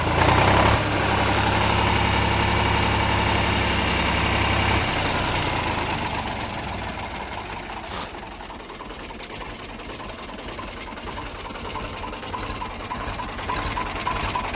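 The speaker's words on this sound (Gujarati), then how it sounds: "કંપની ફિટિંગ એન્જિન છે" An Eicher 485 diesel tractor engine idles with a steady low rumble and rattling knock, loud at first, then easing to a quieter, continuous chug.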